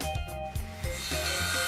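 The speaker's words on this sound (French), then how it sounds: "délignez la lame à la dimension souhaitée" A parquet floorboard being ripped to width, with a steady rasping, grinding cut through the wood that continues without a break, close and fairly loud.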